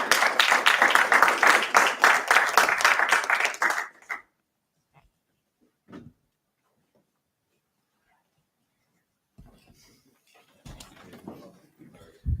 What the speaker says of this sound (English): clap it up for Richwine